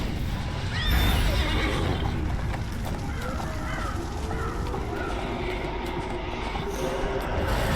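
A horse in the video game Neverwinter whinnies with a rising, wavering neigh near the start, with further fainter neighs over a constant rumbling background and game noise.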